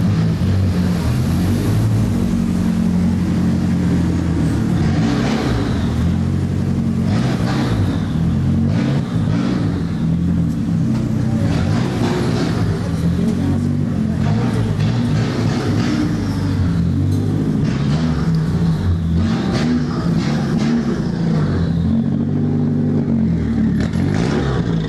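Several cars rev and rumble at a nighttime street car meet in Tokyo, a continuous loud engine drone with repeated revving swells through the whole stretch, no talk.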